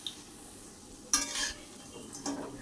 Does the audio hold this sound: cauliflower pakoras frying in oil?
yes